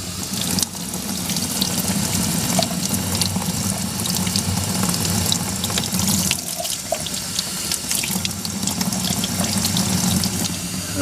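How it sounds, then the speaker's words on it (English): Tap water runs steadily and loudly over an etched circuit board in a sink, rinsing off ferric chloride, with a continuous splashing rush and slight shifts in flow. "Let's rinse it off and see."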